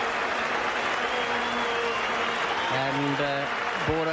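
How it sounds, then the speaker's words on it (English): Cricket crowd at Adelaide Oval giving a standing ovation during a 1992 World Series Cup one-day match between Australia and India, a steady wash of applause throughout, with a commentator speaking over it. "has made a brilliant 76 and is receiving a wonderful standing ovation"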